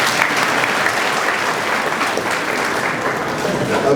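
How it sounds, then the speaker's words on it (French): Steady, dense applause from a large audience at a formal Orange Digital Center inauguration ceremony in Mali, filling the clip continuously at fairly close range with no pauses. "Applaudissez quand même."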